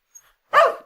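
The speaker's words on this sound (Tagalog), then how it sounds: "Tataulan na." A single dog gives one loud, close bark after a brief faint tick, with silence around it.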